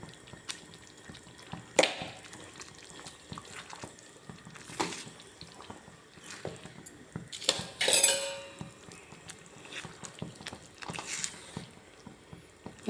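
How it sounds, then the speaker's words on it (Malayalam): Butter chicken being stirred in a pan, with a utensil scraping and clinking against the metal in scattered bursts, some louder than others, over a low kitchen background and no talk. "ഇനി ഇളക്കിക്കൊണ്ടിരിക്കണം."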